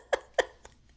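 A woman burps repeatedly aboard a boat: two loud, short, throaty belches in quick succession, then a fainter third, with no talking.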